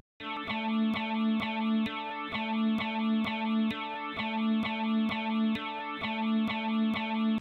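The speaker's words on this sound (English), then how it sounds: "I added some distortion to really, again, give it some more grit" A remixed electronic music track with distortion added for grit, plays loud and alone, with a repeating chord pattern and sharp rhythmic hits pulsing steadily throughout.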